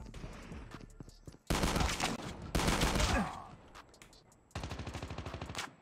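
Gunfire in the mobile shooter game COD Mobile: loud bursts of automatic fire in separate volleys, with rapid evenly spaced shots in the final burst.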